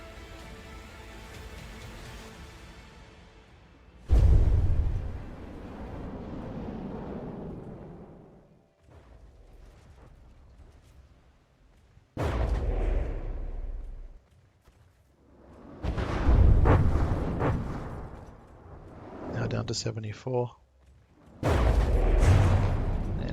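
Explosions in the game From The Depths, a series of loud booming blasts separated by quieter rumbling stretches, some sharp and close, with a brief spoken remark over them.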